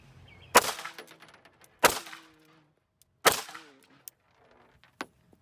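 Three loud, close gunshots fired into the lower part of a vehicle door, each a sharp crack with a metallic ring trailing off, spaced about a second and a half apart, followed by a couple of faint clicks.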